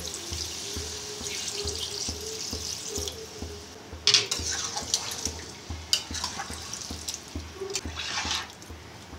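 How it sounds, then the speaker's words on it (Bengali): Water runs into a pot of soybean, potato and pointed gourd curry on the stove, a steady pouring rush with splashes and a rhythmic low knocking beneath, brighter spatters after the first few seconds. "এবার আমি জল দিয়ে দিলাম।"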